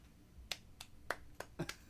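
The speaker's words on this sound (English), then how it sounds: "It was a really polite applause of this entrance." A handful of sparse, faint claps sound one at a time in a quiet, polite golf-clap response to a wrestling entrance at NXT TakeOver XXX.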